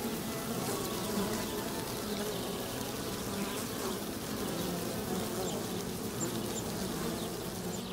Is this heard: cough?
no